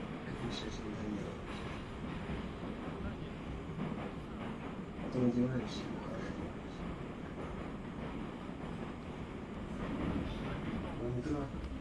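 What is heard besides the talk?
metro train riding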